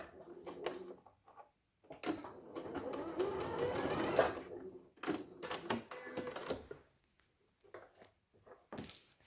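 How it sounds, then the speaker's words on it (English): A sewing machine stitches a diagonal seam corner to corner across a patchwork pot holder, running in several close bursts of rapid mechanical whirring with short pauses between them. "I'm just sewing across that diagonal from corner to corner."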